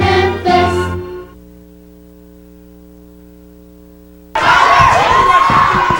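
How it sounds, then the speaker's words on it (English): A USWA wrestling crowd in 1996 erupts into a loud, dense roar aimed at the King. It bursts in suddenly after a brief voice and a stretch of steady electrical hum. "the crowd getting on the king a little bit here with the chant that has become very popular anytime he's around"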